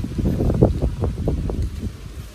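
Strong wind at an outdoor melon farm during a rainstorm roars and buffets the microphone in a loud, steady low rumble with gusty surges, and no talking.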